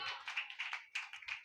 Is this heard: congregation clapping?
yes